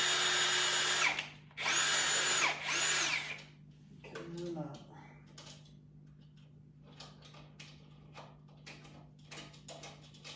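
A power drill drives screws into a gate kit in two loud, close bursts of whirring, followed by softer clicks and handling noises as a person talks quietly.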